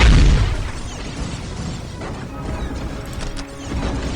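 Battle gunfire and impacts in a Warhammer 40K video game, a loud crash at the start followed by a dense, continuous barrage of bangs and pops, with no voices heard.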